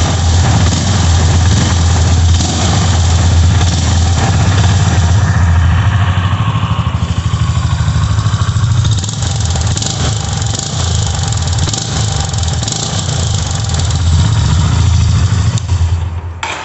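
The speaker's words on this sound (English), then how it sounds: "So let's start the engine and just rev it." A Honda CB 350 motorcycle engine runs loud and close, its throaty exhaust note thrumming steadily with rises as it is revved, sustained with no talking throughout.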